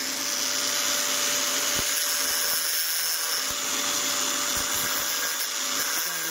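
A power tool grinding a brake part for a TVS XL100 motorcycle, giving a continuous high-pitched motor whine with a steady tone, broken by a few short knocks and clicks of metal contact.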